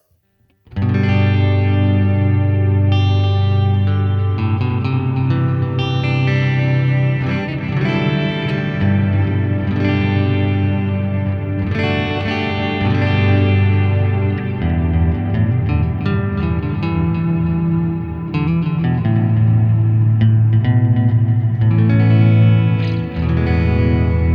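An electric guitar through an ambient reverb pedal preset plays sustained chords and notes washed in lush reverb and modulation, swelling and trailing into a dense, shimmering ambient haze.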